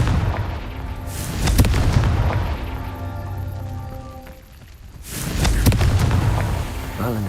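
Two booming Confringo fire-spell explosions from Hogwarts Legacy, each a loud, heavy burst with a rumbling tail, separated by a short lull, with game music playing under them.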